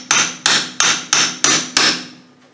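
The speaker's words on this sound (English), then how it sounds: "Now will the flange tap down a bit more?" Six sharp metallic hammer taps, evenly spaced about a third of a second apart, drive a gearbox flange down on a Rover P6 LT77 gearbox, close and loud with short ringing decays and no talk.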